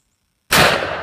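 A single loud close shot from a Browning BLR take-down lever-action rifle in .300 Winchester Short Magnum, fired outdoors into wet pants, snapping sharply after silence and ringing out in a short decaying echo.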